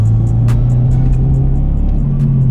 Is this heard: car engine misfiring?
yes